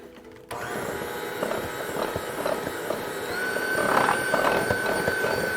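An electric mixer beating almond cookie batter with baking soda switches on abruptly and runs as a steady whirring drone with a motor whine, close and continuous, growing slightly louder toward the end.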